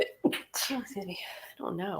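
A single sharp sneeze bursts out near the start, close and loud, followed by a person speaking briefly.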